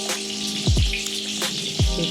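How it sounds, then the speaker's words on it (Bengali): Cauliflower sizzles and crackles in hot oil in a pan, with a few sharp clinks and scrapes from a utensil. "এদিকে দেখো ফুলকপি ভেজে নিচ্ছি"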